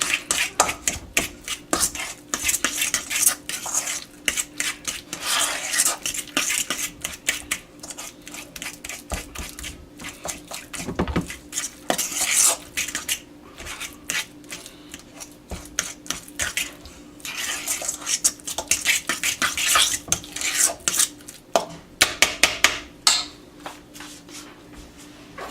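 Deviled egg filling mixed with drops of Pat's Special Blend hot sauce, stirred in a bowl: a long run of quick, rhythmic scraping and tapping strokes, close and fairly loud, with brief pauses and no talking.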